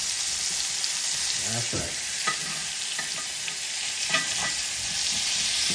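Ribeye steak frying in butter in a hot pan, a constant close sizzle with occasional scraping and stirring clatter, a voice briefly speaking over it.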